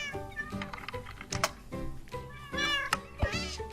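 A cat meows repeatedly in the Minecraft Pixelmon game, a series of short, fairly close mews and cries of varying pitch, interspersed with soft clicks.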